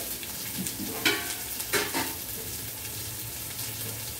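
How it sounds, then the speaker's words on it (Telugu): Water is poured into sizzling chicken biryani masala in a pot, bringing a couple of short splashing bursts over a quiet, steady frying hiss with no talking. "దీనిలో వాటర్ పోసుకోవాలండి"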